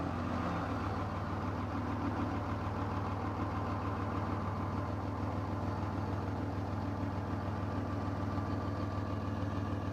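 A Dodge Cummins diesel truck engine cold-starts, catches and settles into a steady, rumbling idle. The engine clatters evenly and loudly up close for several seconds, with no voices.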